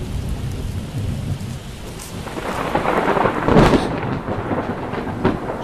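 Rain falls steadily outside a house while thunder rumbles in, swelling to a loud crack and roll around the middle before easing back to a rain hiss with a few nearby rustles.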